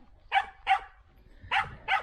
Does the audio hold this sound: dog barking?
yes